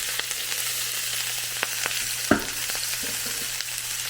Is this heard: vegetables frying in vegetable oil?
yes